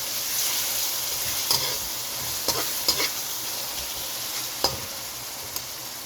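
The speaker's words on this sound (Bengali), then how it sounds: "এখন আদা রসুন ভালো করে কষিয়ে নেব" Ginger-garlic paste with salt sautés in a pan with a constant soft hiss. A handful of light spatula taps and scrapes are scattered across it. No talking.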